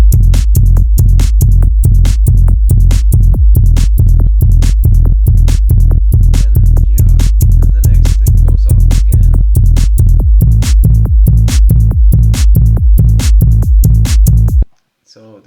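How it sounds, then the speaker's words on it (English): Goa trance synthesized bassline with drums, a fast, loud, evenly pulsing bass pattern locked to steady kick hits, running for about fifteen seconds before stopping abruptly. "I wanted to show you how to make a bass line with drums"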